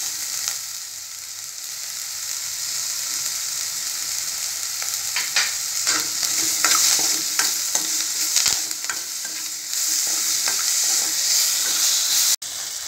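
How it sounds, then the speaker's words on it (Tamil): Chopped tomatoes with curry leaves and a little salt sauté in a hot pan, giving a steady close sizzle with repeated scraping stirs of a spoon, loud and continuous without any talking. "இப்போ நல்லா தக்காளி வதங்கிச்சு."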